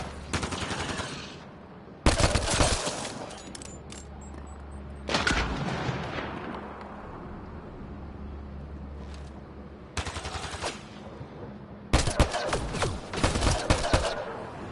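Gunfire from the video game Mass Effect Andromeda, loud bursts of rapid automatic fire separated by quieter pauses, several volleys over the span, with a low background hum between them.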